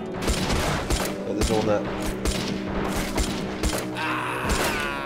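Rapid M1 carbine rifle fire in the Army Men of War game, a string of sharp shots layered over clattering battlefield noise and mechanical sounds, with a brief spoken remark partway through.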